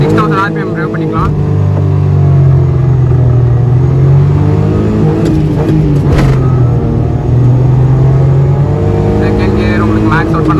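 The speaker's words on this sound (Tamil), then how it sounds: "இந்த இடத்துல இப்போ நான் உங்களுக்கு இந்த வண்டியோட 0 to 100 ஆக்சிலரேஷன் காமிச்சிடுறேன்" Maruti 800 with its original naturally aspirated engine accelerating from 0 to 100 on a road, engine droning loud and close, pitch climbing through the gears with brief dips at the shifts; someone talks over it throughout.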